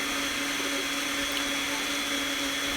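A blender whirring through sea moss gel, a steady high-pitched motor drone with a slight rev, close and continuous with no talking.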